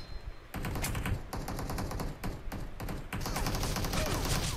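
Rapid gunfire rattles through an online shooting video game, a dense, loud stream of shots and bursts running almost without a break, with nobody speaking.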